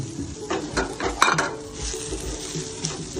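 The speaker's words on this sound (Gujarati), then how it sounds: "સુરણને ઘીમાં શેકી લેવાનું" Grated suran (elephant foot yam) frying in ghee in a pan, with steady sizzling, a metal spoon scraping and clinking against the vessel in a few quick strokes, close and continuous, no talk.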